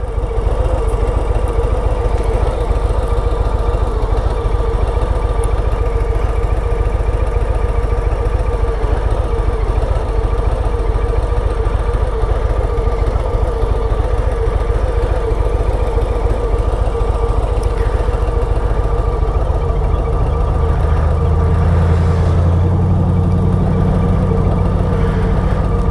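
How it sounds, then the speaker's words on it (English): Old truck engine idling, a loud continuous low rumble that runs steadily throughout, with the pitch of the drone shifting slightly near the end and no talk over it. "The truck kind of sounds good."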